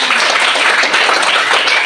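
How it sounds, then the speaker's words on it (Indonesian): A classroom of students applauds together, dense and steady clapping held close and loud throughout with no pause. "Oke, tepuk tangan untuk kita"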